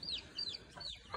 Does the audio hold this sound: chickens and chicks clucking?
yes